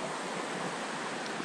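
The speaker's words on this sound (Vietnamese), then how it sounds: "Ở trước mặt là dòng suối bự." A large stream rushes in a Lam Dong forest after heavy rain, a dense, steady roar of flowing water close by and unbroken, with no voices.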